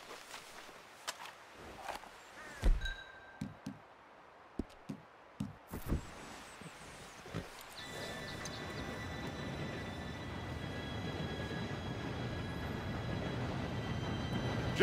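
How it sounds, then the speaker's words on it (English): In the video game Red Dead Redemption 2, a train approaches on the railroad, starting after scattered footsteps and knocks and then swelling into a steady, building rumble with a faint whistle-like tone. "Train should be here for any minute now."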